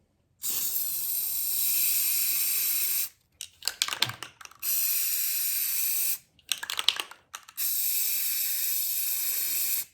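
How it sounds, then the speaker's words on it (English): An aerosol spray paint can hisses into a bucket of water in three long, steady bursts, separated by short pauses filled with rattling and handling noises. Close and loud, with no talking. "It's kind of hard to spray paint and hold on to the camera at the same time"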